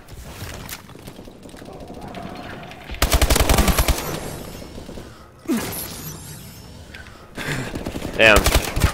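Rapid automatic gunfire in Call of Duty: Advanced Warfare multiplayer, with loud sustained bursts of machine-gun fire alternating with quieter stretches and single shots, mixed with game effects and a player talking.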